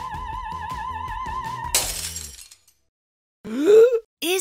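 A crystal glass shatters with a bright crash, cutting off a sustained held tone that comes before it. A short silence follows, then a brief groaning vocal sound.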